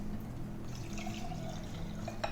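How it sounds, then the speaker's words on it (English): Hot buttered rye cocktail poured into a mule cup: a soft, steady liquid trickle over low background hum, ending in a brief clink near the close. "Just pour that in."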